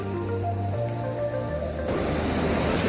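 Sea waves roll in at RK Beach in Visakhapatnam on a winter day, a steady, loud wash of surf that swells and thickens toward the end, heard alone.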